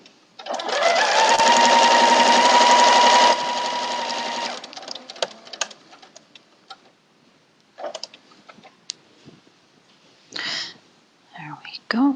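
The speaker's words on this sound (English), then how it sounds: "slowing down to stitch over that pin." A sewing machine stitches a quilt block in a loud, steady whirring run that slows over a pin and then stops, followed by faint handling noises and quiet whispered talk.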